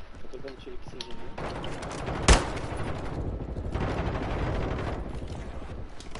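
Rapid bursts of Call of Duty: Warzone gunfire rattle continuously under a dense wash of noise, with one sharp louder crack partway through.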